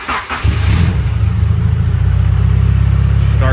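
A turbocharged Honda CB7 car engine cranks briefly and fires up, then settles into a steady, loud, close-up idle with a throbbing low rumble.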